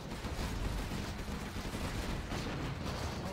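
Gatling cannons fire in a Command & Conquer Zero Hour multiplayer battle, a dense, continuous rattle of rapid shots layered with other combat noise, steady and fairly loud throughout.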